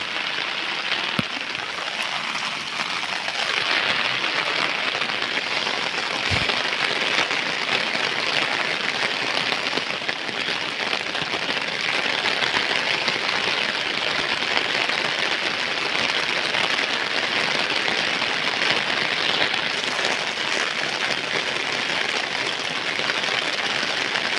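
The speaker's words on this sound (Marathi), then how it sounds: "वाटत नाही पाऊस थांबेल असा तर सकाळीच चालू केला" Heavy monsoon rain in the Konkan countryside over flooded fields, a steady dense hiss of downpour that holds evenly throughout with no talk.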